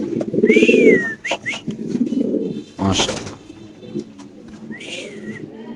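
Pigeons at a pigeon farm give close, low, throaty coos in short bursts, with a brief flutter or rustle in the middle and a quieter coo at the end.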